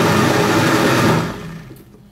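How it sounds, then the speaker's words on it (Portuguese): A kitchen blender whirs loudly as it purées a pineapple mixture with cinnamon, a steady dense motor roar that fades out toward the end. "Vou estar tampando aqui o meu liquidificador e vou bater tudo muito bem."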